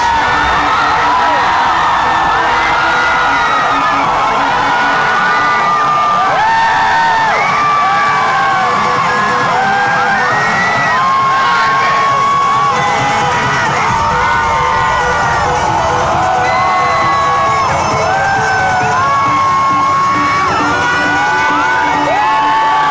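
A large crowd at a concert in Mexico cheers, whoops and screams without pause, the many high voices loud and dense throughout.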